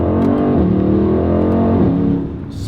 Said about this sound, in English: they know how to make the engine sounds good, and the V8 always gonna sound better than the inline 6 or V6.